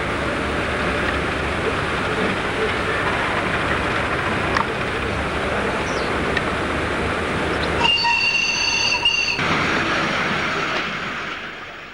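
Miniature railway locomotive running along the Mardyke track, a steady rolling rumble of wheels on rails with a brief squeal or whistle partway through and no voices.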